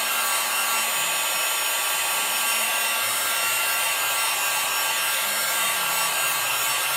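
A hair dryer blowing steadily on wet paint on a glazed abstract boat painting, a loud continuous close whoosh lasting throughout with no talking.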